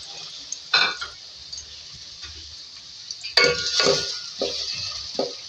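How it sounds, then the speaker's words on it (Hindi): Onion frying in mustard oil in a pan, a steady high sizzle with a few louder bursts as the onion is stirred and a spoon scrapes and clinks against the pan. No one talks. "ये मीडियम साइज़ की प्याज है, पहले उसको फ्राई करेंगे"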